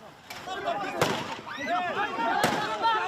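Sharp, sudden gunshots ring out three times at uneven intervals, loud over a crowd's shouting and commotion during a scramble for aid supplies.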